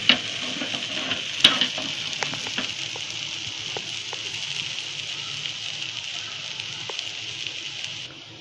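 Rice flour ghavan cooks in a pan over low heat, with a soft continuous sizzle broken by a few light taps and scrapes near the start before it fades at the end.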